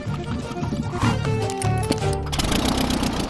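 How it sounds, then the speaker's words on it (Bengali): A cheap small airplane engine with a buzzy, lawn-mower-like drone runs loud and steady throughout, its pitch rising and settling under rough cabin noise. "এর আওয়াজটা লন মোভার ইঞ্জিনের মতো কেন?"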